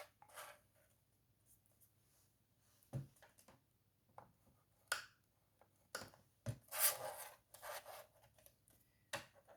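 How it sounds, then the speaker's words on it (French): A creasing board scores paper for a couture-style case: soft, faint scraping and rubbing strokes come in scattered short bursts, close by in a quiet room. "je reprends la planche de rainurage et je vais rainurer à 1/2 pouce de chaque côté"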